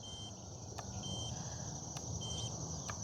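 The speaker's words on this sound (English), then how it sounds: "we'll listen to beeps." An RC helicopter's Flish RC L7 flight controller on a Cobra 500 emits sharp, high-pitched electronic beeps, three brief chirps spaced about a second apart, over a steady high tone and a low background hum.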